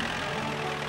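A cartoon little red tractor's engine runs at a steady idle, a continuous low rumble with no talk over it.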